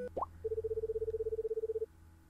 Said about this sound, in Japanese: 電話です。